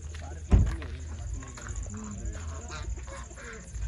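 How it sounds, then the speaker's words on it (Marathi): Chickens cluck and ducks call around a farmyard while people talk over them, with a sharp knock near the start. "पहिलं बदक आहे, कोंबड्या येतं."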